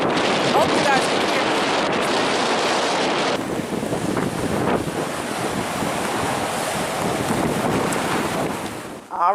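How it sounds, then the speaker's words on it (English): Strong wind blowing hard over a choppy inlet near Anchorage, Alaska, a loud continuous gusting roar with buffeting on the microphone and rough waves beneath, steady throughout and dropping off briefly at the very end. "The wind is blowing really hard"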